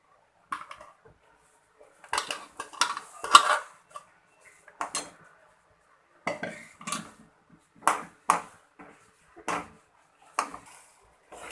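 Utensil clatter in a pan while boiled dal is added to ghee during Gujarati puran poli filling preparation: a dozen or so sharp clinks and scrapes in irregular bursts, close and fairly quiet, with silence between.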